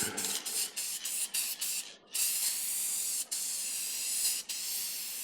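A spray paint can hisses in a run of short bursts while painting a door, then a sustained close spray broken by a couple of brief pauses.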